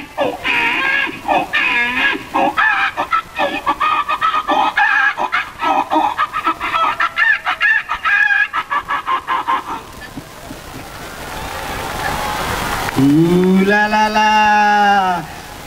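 A voice imitates a chicken, making loud, rapid bursts of clucking for about ten seconds. After a brief noisy pause, a drawn-out crowing call follows.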